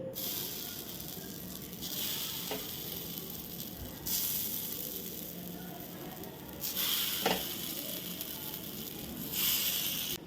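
Methi vadi frying in oil on a large cast-iron dosa tawa, a steady quiet sizzle with a few brief louder hisses and soft scraping close by.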